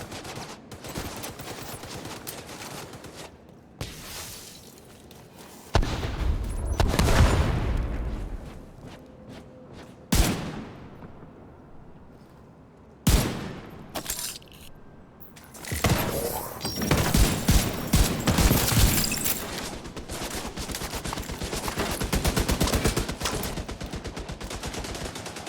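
An enemy turret firing in The Division 2 during a heroic mission in New York, with rapid bursts of gunfire coming in loud repeated volleys, broken by short gaps and heavy impact booms.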